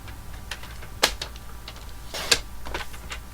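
Card stock for a card front is cut to size on a paper trimmer, with light ticking and scraping and two sharp, close snaps as the blade passes.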